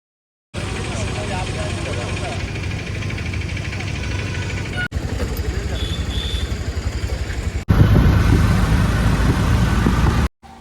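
A Rapido auto rickshaw engine drones steadily throughout a ride in Vizag, a continuous mid-pitched hum with road rumble that grows louder and rougher near the end, with faint voices mixed in at times.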